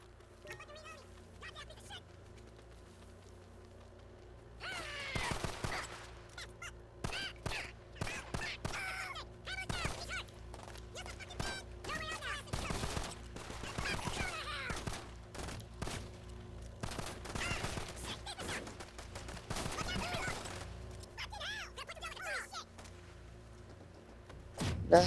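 GTA gunfire crackling in rapid bursts and volleys around a warehouse, fairly steady for most of the stretch, with someone talking over it.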